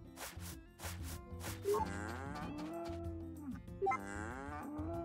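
Cows moo in Story of Seasons: A Wonderful Life, two long, loud, drawn-out calls rising over a busy backdrop of game music and farm ambience.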